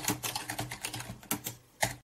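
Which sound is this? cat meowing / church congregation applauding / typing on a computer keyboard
typing on a computer keyboard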